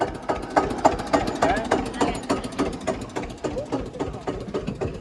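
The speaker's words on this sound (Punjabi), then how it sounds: "ਤੁਹਾਨੂੰ ਫੇਰ ਦਿਖਾਉਣੇ ਆ ਟਰੈਕਟਰ ਆ ਚੁੱਕਿਆ ਸਾਡਾ ਜੀ" A tractor engine idles in a farm field with a steady, rhythmic chugging knock, close by, while people talk over it.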